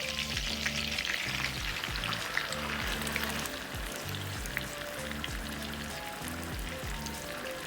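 A marinated pork chop frying in butter on low heat, a steady close crackling sizzle with soft bubbling and spattering, continuous and even, with no voices over it.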